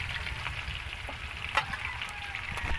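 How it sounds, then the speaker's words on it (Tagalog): Oil sizzles and crackles steadily in a frying pan while frying chicken, with scattered pops and light spatters over a constant frying hiss. "Kainit na ng mantika ay nabulak na eh."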